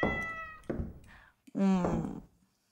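A cat meows twice, close and loud, the second call long and drawn out, with a soft knock in between; part of a French audio thriller drama.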